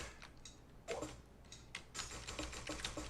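Computer keyboard keys pressed during a game of Tetris, a quiet irregular run of clicky taps in small bursts, close and faint, with no voices.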